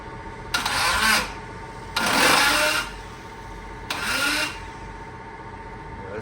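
The starter on a junkyard Honda Civic with a faulty starter cranks an engine that won't fire. There are three short, loud whirring bursts, each under a second, spaced about a second apart against a low background hum.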